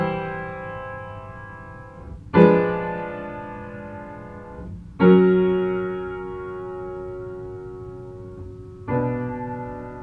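A secondary leading-tone seventh chord, vii7 of V, sounds in three sustained keyboard-like strikes about every two to four seconds, each swelling then slowly fading, with no voices.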